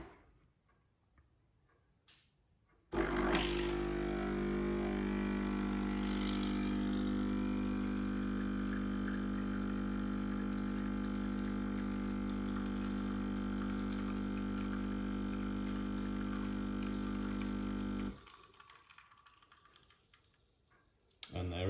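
A Smeg ECF01 filter coffee machine brews a one-cup Americano with a steady, loud mechanical hum and hiss that starts abruptly, runs about fifteen seconds without pause, then cuts off, leaving quiet room sound.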